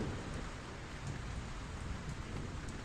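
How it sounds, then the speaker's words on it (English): Steady rain pours in a dense, even hiss with scattered drops, continuous and fairly close, with no voices over it. "it's raining, so everything is going to be wet"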